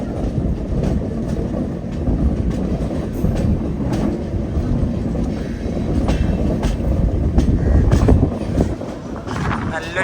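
An express train in sleeper class leaves Mangaluru Junction with a steady rumble and rhythmic clickety-clack of wheels over rail joints, loud and continuous throughout.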